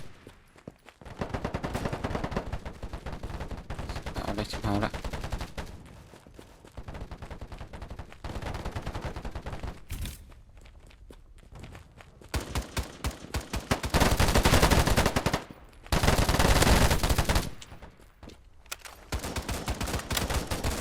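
Rapid automatic gunfire from a shooting video game crackles in repeated bursts, some long and sustained, others short, separated by quieter gaps, loud and close throughout.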